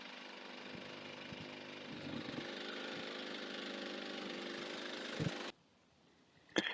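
A DENQBAR DQ-3800 inverter generator runs with a steady, even engine hum and a fairly soft drone with a few light knocks, then cuts off abruptly into near silence before a sharp click.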